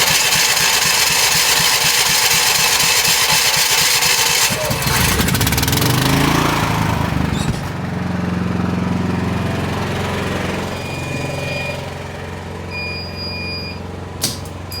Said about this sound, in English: I can just go in here and manually start the generator